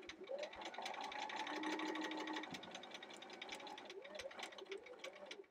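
A sewing machine runs steadily while stitching a quilt block along a marked line, a close, continuous mechanical whir with rapid needle rhythm that slows and pauses briefly near the middle before resuming.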